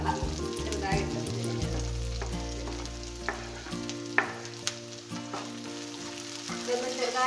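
Chopped onion, garlic and ginger sizzle steadily in a pan for a Kerala-style gobi manchurian, with a low rumble of stove or fan under the frying and a few sharp clinks of a spoon stirring; no one speaks.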